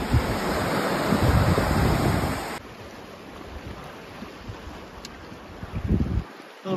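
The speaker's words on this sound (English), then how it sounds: "Little wave train." A small wave train of river rapids on the Owyhee River, a Class 3 stretch, rushes as a steady close roar of churning whitewater with wind buffeting the microphone, easing to quieter flowing water partway through.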